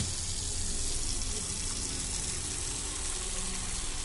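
Room-temperature water pours steadily into a container during an autopsy lung float test, a constant close gushing with no voices.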